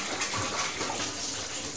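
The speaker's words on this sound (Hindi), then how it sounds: "अब इसमें डाल देंगे थोड़ा पानी।" Water is poured into a pressure cooker on a gas stove, giving a soft, continuous splashing gush that runs steadily for the whole short stretch at low, close-up volume. No voices.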